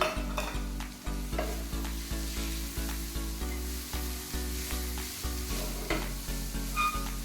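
Masala with coriander powder and chilli flakes sautéing for a paneer-stuffed naan filling, a steady sizzle broken by regular scraping stirs of a spoon against the pan, close and alone with no voices.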